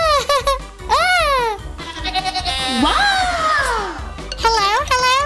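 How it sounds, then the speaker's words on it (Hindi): A goat bleats loudly several times, with wavering, drawn-out cries close by, mixed with people and children talking over and between the calls. "बकरी।"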